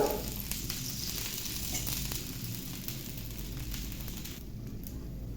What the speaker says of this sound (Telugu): ఇప్పుడు కొంచెం ఆయిల్ వేసుకోవాలి దోశ చుట్టూ